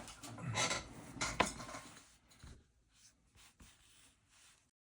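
Two-part 5-minute epoxy being mixed for a brass fitting on a Geo 3 solenoid, heard as soft scraping and stirring clicks, busier at first and then thinning to faint intermittent taps.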